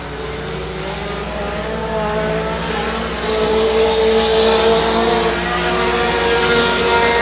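Four-cylinder rear-wheel-drive race cars run on a speedway, their engines droning steadily and loud with a rising pitch as the pack accelerates around the track.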